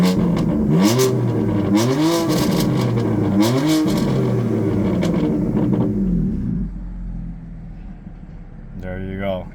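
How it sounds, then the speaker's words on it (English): Loud revving from a 2018 BMW M4 Ultimate Edition with a titanium M exhaust, valve open: three sharp rising blips over a rumbling idle, then the engine settles lower, with a short final rev near the end. "That's that amazing titanium exhaust sound system."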